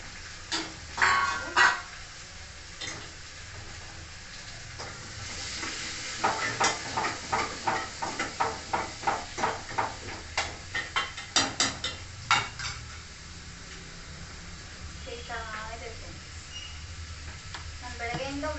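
Grated radish added to a hot tempering in a pan, sizzling and frying under a rapid series of stirring scrapes, with occasional clatters of the pan and a few brief sounds in the background.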